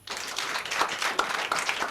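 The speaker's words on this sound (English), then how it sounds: "Make una clap for him." A small studio audience at a family call-in radio programme claps together in a dense, brief burst of applause, fairly close and moderately loud, with no talking over it.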